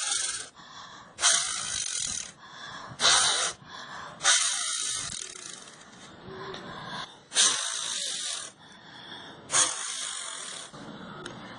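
Air blown in repeated bursts across a small fan mounted on a motor shaft in a homemade wind generator, each gust a breathy rush lasting about a second, several in a row, close and fairly loud with no talking.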